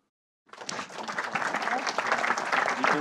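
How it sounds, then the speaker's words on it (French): An audience at a French-language Java tech talk on GraalVM and Quarkus breaks into applause, starting abruptly after a brief silence and holding as a steady, dense clatter of many hands. "On applaudit"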